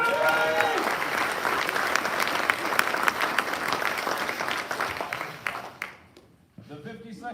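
A ceremony audience at a military wing quarterly awards event applauds nominees, dense clapping that fades out near the end before a voice resumes speaking.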